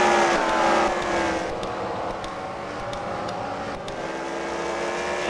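Several race cars circle a short oval at a Fight Night event at the Freedom Factory, with engines droning steadily at mid distance and a few brief sharper revs cutting through the continuous roar.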